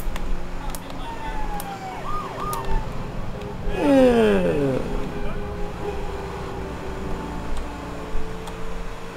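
Police car siren in GTA 3, heard while driving through the city: a brief wailing sweep around the middle over engine rumble and game noise, with someone talking throughout.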